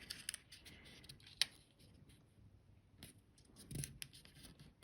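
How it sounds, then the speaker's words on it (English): A sheet of paper is folded along a marked line, heard as faint close rustles and a few crisp creasing snaps and scrapes in an otherwise quiet room. "We fold along the line."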